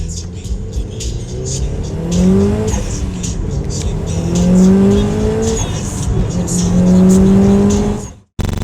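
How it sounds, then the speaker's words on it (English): A 2004 Subaru Impreza WRX STI engine revs hard, its pitch climbing in repeated sweeps through the gears. Tyres squeal over a steady, loud roar that cuts off abruptly at the end. "this is my 2004 Subaru Impreza WRX STI."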